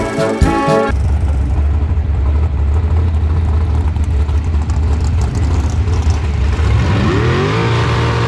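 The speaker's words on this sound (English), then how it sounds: "Tom Gall coming at you, the GallStar TV machine down in a 477" A drag racing car's engine roars loud and close at a bracket racing event at Cedar Falls Motorsports Park, holding a sustained rev before climbing in pitch as it accelerates near the end.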